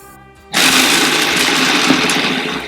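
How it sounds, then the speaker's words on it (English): A blender starts abruptly and purees a carrot-greens pesto of pine nuts, lemon and olive oil, running as a loud, steady whirring roar to the end with a few lumpy ticks in the motor tone. "And now we're going to puree it."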